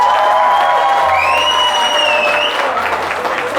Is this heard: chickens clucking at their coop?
no